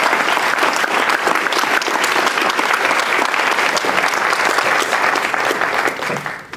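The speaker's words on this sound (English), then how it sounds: "please rise and let's give them a round of applause" Sustained applause from an audience at the 2013 San Leandro State of the City address, dense and steady clapping throughout that tapers off near the end, with no talk over it.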